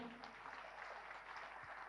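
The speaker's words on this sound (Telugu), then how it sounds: "ఒక్కసారి గట్టిగా చప్పట్లు కొడదాం" Audience applause at a PYMA youth event, a steady even patter of clapping that fills the whole stretch at a fairly faint, distant level, with no talk over it.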